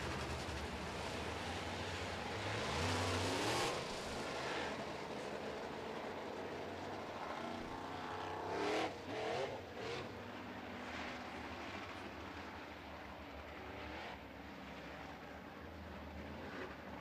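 Modified stock cars race around a dirt oval track during a feature event, their engines roaring continuously from a distance with a steady broad drone and brief surges as cars pass.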